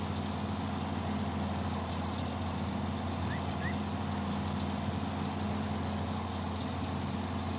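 Kenworth truck engine in a trucking video game, a steady low droning rumble that holds evenly throughout with no talk over it.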